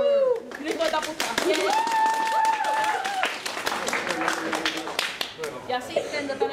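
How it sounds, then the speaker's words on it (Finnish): Audience clapping at a Christian summer festival, a brief burst of claps rising over a voice that keeps talking on a loud stage mic throughout, the applause fading quickly. "Nyt voi taputtaa."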